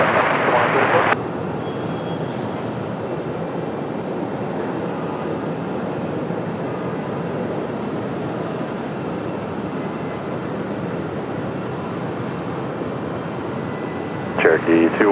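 A Republic Airways airliner taxis at Raleigh-Durham airport, its engines producing a steady, broad rumbling roar that holds evenly throughout, with a brief radio voice at the start and end.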